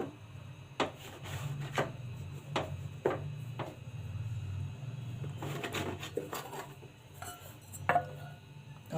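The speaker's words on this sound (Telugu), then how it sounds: "నేను ఈ మూతతో చేస్తున్నాను, ఈ గిన్నెతోటి." A bowl lid pressed into rolled wheat flour biscuit dough on a plate, giving a series of sharp taps and light scraping knocks at irregular intervals over a quiet background.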